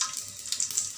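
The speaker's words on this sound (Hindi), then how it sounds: "मसाला तड़क गया" Whole spices (black pepper, black cumin and cinnamon) crackle and sizzle in hot oil in a cooking pot, a close, steady frying hiss lasting about a second.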